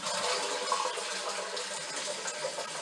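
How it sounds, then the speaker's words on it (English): A toilet being flushed on a homestead, a steady broadband rush of water running evenly for the whole span, close by and fairly quiet with no talk. "A courtesy flush, just to make sure we don't clog the toilet."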